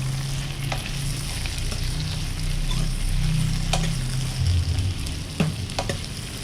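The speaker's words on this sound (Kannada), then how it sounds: "ಸ್ವಲ್ಪ ಪುದೀನ, ಒಂದು ಸ್ವಲ್ಪ ಕೊತ್ತಂಬರಿ ಸೊಪ್ಪು ಹಾಕಿ ಒಂಚೂರು ಮಿಕ್ಸ್ ಮಾಡಿಬಿಟ್ಟು" Chicken sambar in a pot, village style, with mint and coriander leaves mixed in: a constant frying sizzle with soft scraping strokes of a spoon, close and even, a few sharper clicks near the end.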